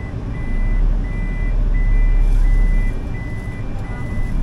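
A camper van reversing gives off a steady series of about six evenly spaced electronic beeps, each lasting about half a second, heard close over a loud, constant idling engine rumble.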